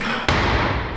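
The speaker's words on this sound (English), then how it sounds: "Notice the heels are thudding." A single heavy thud from a weightlifter's heels striking the platform during a lift, sudden and close, followed by a dense rumbling wash of noise.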